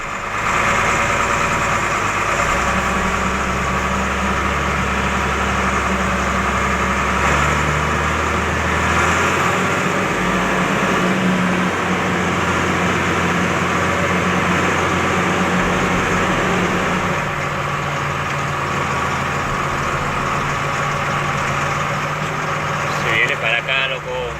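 A tractor engine idles and runs with a steady, loud mechanical drone and rumble, constant throughout, its low hum shifting slightly in pitch partway through.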